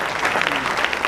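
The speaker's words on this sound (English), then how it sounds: "Would you give them a round of applause?" Audience applause for standing board members and their spouses at an organization's event, a steady wash of clapping throughout the short moment.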